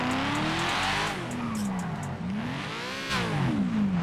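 A junky car with an LS engine drives in GTA 5, its engine note rising and falling in loud, sweeping revs that swell again near the end, with no talking.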